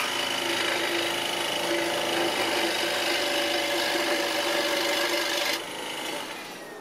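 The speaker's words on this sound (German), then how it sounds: "also säge ich hier noch kurz was weg." Hand sawing through a wooden tree slice, a steady loud rasping scrape of the blade strokes running continuously before easing off near the end, with a brief word spoken.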